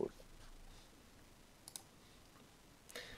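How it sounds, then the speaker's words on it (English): A loud mechanical computer keyboard gives sparse, sharp key clicks, a couple near the middle and a short cluster at the end, over a quiet room hush with no speech. "I want to apologize for the typing. My keyboard is indeed mechanical and bloody loud."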